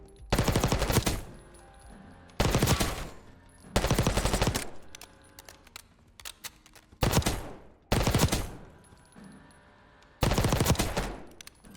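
A gun fires on the firing range in Black Ops 6, in six loud, close bursts of rapid automatic fire separated by short pauses.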